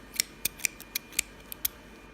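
Scissors snipping into a slime-filled stress ball, a quick run of about eight sharp metallic clicks at an uneven rhythm, close and crisp with nothing else heard.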